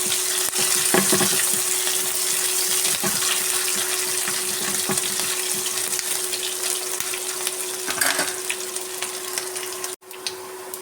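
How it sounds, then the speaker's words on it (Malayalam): Onion, curry leaves, ginger and green chili fry in a pan for a spicy sardine curry, giving a loud, dense, continuous sizzle with scattered stirring clatters close by, which dips briefly near the end. No voices. "സവാള കറിവേപ്പില ഇഞ്ചി പച്ചമുളക് നന്നായി വഴറ്റിയെടുക്കാം"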